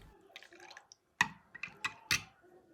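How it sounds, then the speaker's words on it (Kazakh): Cold water poured into a liquid mixture for Napoleon cake pastry dough gives a few quiet, separate drips and splashes with short pauses between them. "суық су құямыз"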